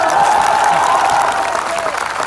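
Audience at a Khesari Lal Yadav stage show in Koiripur, Sultanpur, clapping in a dense, steady burst of applause with crowd noise throughout, fading slightly toward the end.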